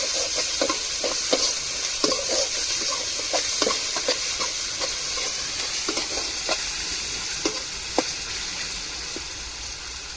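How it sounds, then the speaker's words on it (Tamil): Ginger and garlic sautéed in a pan before crab goes in, a continuous close sizzle broken by frequent scraping stirs and light clinks. "நம்ம இஞ்சி பூண்டை சேர்த்துக்கிடுவோம் பச்சைவாடை மாறத்தடிக்கும் வதக்கி விட்டுக்கிடுவோம்"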